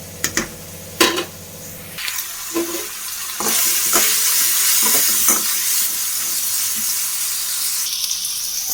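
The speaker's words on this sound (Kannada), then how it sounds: "ಟ್ರಾನ್ಸ್ಪರೆಂಟ್ ಆಗೋವರೆಗೂ ಹುರ್ಕೋಬೇಕಾಗತ್ತೆ" Tomato gojju being stirred and fried in a pan until transparent, with scraping spoon knocks early on, then a loud steady sizzle filling the rest.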